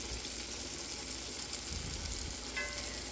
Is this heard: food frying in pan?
yes